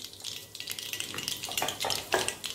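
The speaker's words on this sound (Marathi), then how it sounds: "आपलं तेल गरम झालेलं आहे, त्यात टाकत आहे मी मोहरी" Mustard seeds crackle and sizzle in three spoonfuls of hot oil in a kadhai while amti is being prepared, with dense close popping bursts and spattering that swell near the end, and no voices.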